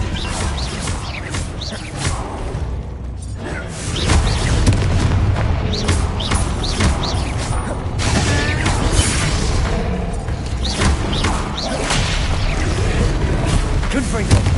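Confringo blasting spell explosions in Hogwarts Legacy, repeated heavy booms and crashes in a dense, chaotic combat mix with talk and other effects throughout.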